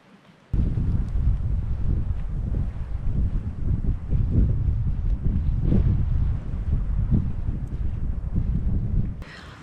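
Strong wind buffets the microphone at a lakeside campsite in Algonquin, a loud continuous low roar with gusting surges that rushes in abruptly after a quiet start and drops away at the very end.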